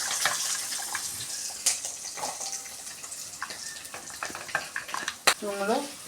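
Coconut pieces frying in hot oil with popped mustard seeds in a Kerala-style pan, a steady hiss with scattered crackles and a few louder sputters, broken by brief clinks and scrapes of stirring.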